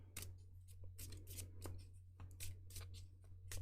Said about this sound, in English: Shuffle a little bit more